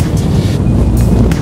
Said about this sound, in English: it is just so bitter, such a bitter easterly wind